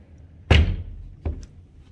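Hotel bathroom sliding door in a Las Vegas suite, a loud single slam or thud as it closes, followed by a softer knock a moment later, nearby with no talk.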